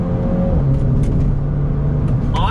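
2020 Mini JCW convertible accelerating hard in manual shift mode, a loud close engine drone with rising pitch, brief crackles, and a quick upshift near the end, with no speech.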